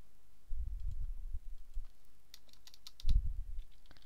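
Someone types on a computer keyboard with soft, close key clicks and low thumps in two short bursts separated by a lull, in a quiet room.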